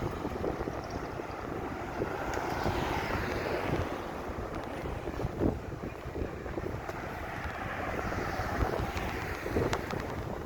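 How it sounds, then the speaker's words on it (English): Steady gusting wind buffets the microphone outdoors on a walking tour near an underpass at Yam Park, Melrose Hill, Jamaica, a continuous loud rumble filling the whole stretch with no talk. "I'm not sure if the wind is going to affect the audio"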